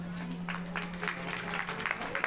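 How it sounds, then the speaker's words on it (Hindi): A crowd at a Bhagwat Katha gathering in a Vishwakarma temple claps for honoured guests, a moderate, somewhat uneven patter of hands over a steady low hum, fairly distant. "एक बार इनके लिए जोरदार तालियां बजा दीजिए।"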